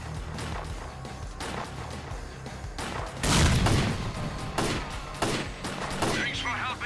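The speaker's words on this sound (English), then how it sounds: "Grenade!" Grenade explosion in the STALKER: Clear Sky shooter, a heavy booming burst amid rapid gunfire and impacts in a firefight, with voices shouting under the clatter.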